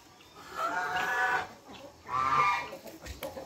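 Chickens cluck in a backyard with two clear bursts of close, throaty clucking and quieter scattered calls between them. No one speaks.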